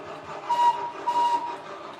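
A model train sound decoder plays a UK steam whistle: two short, shrill toots in quick succession, close and moderately loud over a faint running hum.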